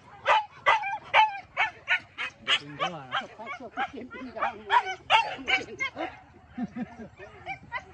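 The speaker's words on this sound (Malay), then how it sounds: "Anjing." A dog barks repeatedly in quick, uneven bursts near a road where wild boar cross, with yips mixed in and people talking nearby.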